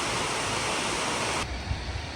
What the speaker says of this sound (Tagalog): makuhaan natin ng mas malapitang video ang Mactal Waterfalls na ito